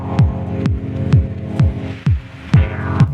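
A droning, throbbing noise texture from the looper of a Befaco Oneiroi synth module pulses in a steady rhythm, each swell sliding downward in pitch, layered over a low hum with hissy noise on top.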